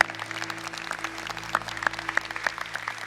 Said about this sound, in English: Please have a round of applause for our first film.